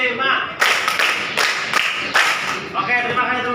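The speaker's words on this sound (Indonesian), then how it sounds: "tepuk 1, tepuk 2, tepuk 3, tepuk 4" Classroom clapping game led by a teacher counting out beats, students clapping together in rhythm; repeated sharp group claps at regular intervals alternate with a speaking voice over them.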